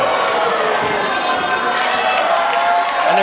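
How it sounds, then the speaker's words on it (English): Wrestling crowd at an ECCW no holds barred match, a dense, loud roar of cheering and shouting voices that stays steady throughout. "the crowd loves Nicole Matthews"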